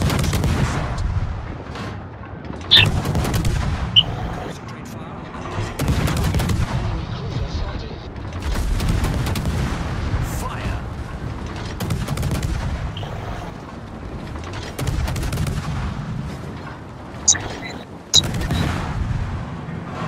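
Destroyer main and secondary guns firing in a naval video game: repeated heavy booms every few seconds over a rumbling background, with sharper cracks between the larger blasts.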